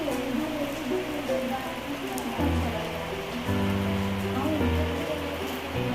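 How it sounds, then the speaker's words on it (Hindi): Rain patters steadily on surfaces in a Himalayan mountain village at Triyuginarayan, with snow in view, as someone talks over the constant wet hiss throughout. "बर्फ़ और ये हो रही है बारिश।"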